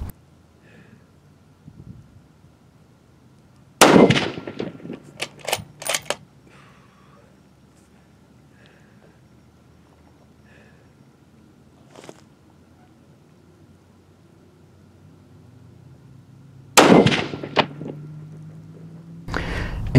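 Mossberg MVP Scout rifle fired at a 200-yard range outdoors: two clusters of sharp, loud reports around four and seventeen seconds, separated by a long quiet stretch with faint wind and small ticks.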